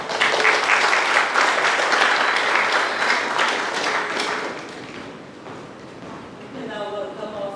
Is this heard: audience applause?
yes